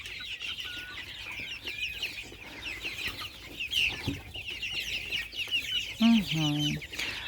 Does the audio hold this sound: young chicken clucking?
yes